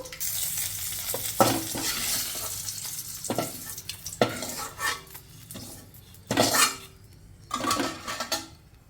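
Green chilli pieces sizzling in a pan on a village kitchen stove, with a steady fry hiss and repeated spatula scrapes and clinks against the metal, close and fairly loud, no talking.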